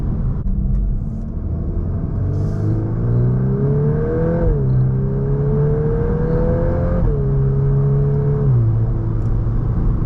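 Volkswagen MK8 Golf R accelerating hard, engine note climbing steadily through gears with brief dips at shifts, loud and close with constant rumble.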